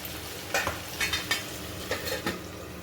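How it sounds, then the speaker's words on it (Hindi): A spoon scrapes and stirs a spiced potato vegetable dish in a frying pan, several soft scraping strokes over a steady background sizzle, close and fairly quiet, with no talking. "चलिए हम फिर से एक बार चला लेते हैं सब्जी को"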